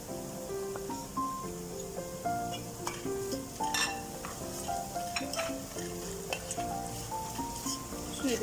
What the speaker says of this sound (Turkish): Salçayla beraber 2-3 dakika kavuralım.